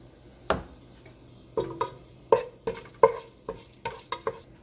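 Mustard seeds, cumin seeds, fenugreek powder and turmeric hit hot oil for a paneer vegetable curry, giving a run of sharp crackling pops and spits, close and loud, spaced irregularly over a quiet sizzle.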